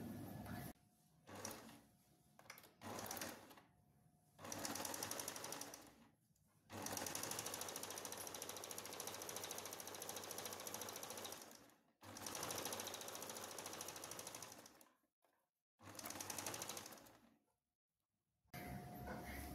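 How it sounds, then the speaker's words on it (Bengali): A sewing machine stitches the hip seam of half pants in several fast, whirring runs of even, rapid needle strokes, each stopping briefly before starting again, close and clear. "এইভাবে প্রথমে হিপটা আমি তোমাদের সেলাই করে দেখাবো"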